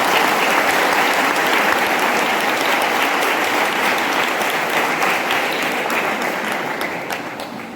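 An audience at a foundation's inauguration event breaks into loud, sustained applause, a dense wash of many hands clapping that holds steady and then begins to fade at the end.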